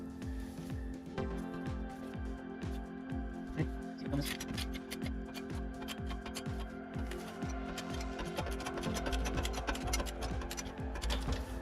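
Rapid rhythmic mechanical clicking and ratcheting, like a press being worked in repeated strokes, as a new bearing is pressed onto a BMW E36 M3 limited-slip differential, using the old bearing's inner race as the press, with steady metallic ticks throughout.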